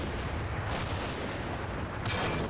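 Heavy, booming tank gunfire in Combat Mission: Battle for Normandy, a dense continuous roar with two sharper blasts near the start and end, loud with no talk.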